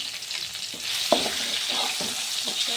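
Pieces of katla fish lightly frying in oil in a pan for doi katla, a steady close sizzle with a few soft stirring clinks and pops throughout.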